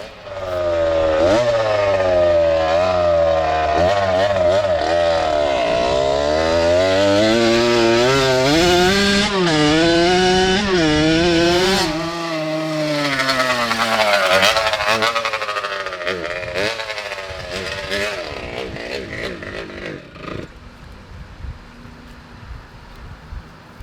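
A Harley-Davidson motorcycle swapped to a two-stroke engine revs hard on its first run, a loud buzzing, chainsaw-like wail rising and falling in pitch, then sputtering and fading as it dies out, with voices in the background.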